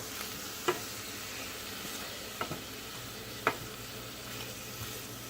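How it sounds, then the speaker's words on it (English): Vegetables fry in a pan and are stirred, giving a continuous low sizzle with a few sharp clinks of the utensil against the pan. "I'm gonna throw this in there and stir, get that through everything."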